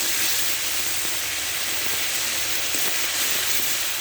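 Spices and chili powder fry in hot oil for a Bengali fish curry as the masala cooks down. A steady, loud, close sizzle hisses on without pause, with no voices over it.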